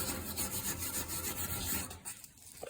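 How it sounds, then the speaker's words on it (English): A small wire brush scrubs across a freshly made weld on a trailer's stake pockets and scrub rail, giving a steady, quiet, raspy rubbing close by that tapers off near the end. "I got a little wire brush here too. We can wire this,"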